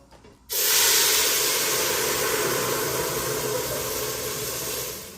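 Tamale sauce poured into hot melted lard on the stove erupts after a brief quiet moment into a loud, sudden sizzle that settles into a steady hiss and fades slightly over several seconds.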